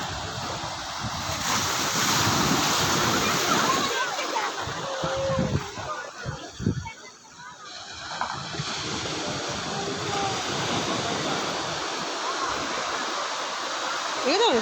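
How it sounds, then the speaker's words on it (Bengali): Waves crash and surge continuously on the shore in a loud, rolling roar, with voices occasionally heard beneath the surf. "দেখ কেমন জোরে জোরে ঢেউ আসছে"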